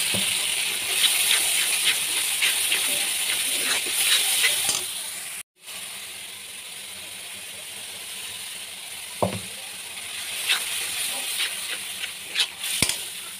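Soaked spice paste sizzles in hot oil with onions in a kadai, a steady hissing fry broken by stirring scrapes, with a brief gap near the middle before the sizzle resumes.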